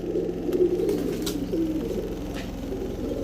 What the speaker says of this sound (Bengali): ছাড়েন তো কবুতরগুলা